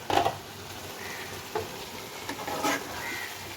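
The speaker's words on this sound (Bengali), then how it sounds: "এরপর আমি আরেকবার খুলে নাড়িয়ে নিই।" A pan of cabbage with fish head is stirred, giving a few soft scraping and clattering strokes over a faint, steady cooking hiss.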